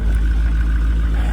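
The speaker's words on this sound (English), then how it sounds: "The old Chevy's Duramax starts regardless what you throw at it." An old Chevy Duramax diesel truck engine idles just after a cold start, a loud, steady low rumble with faint ticking and no voices.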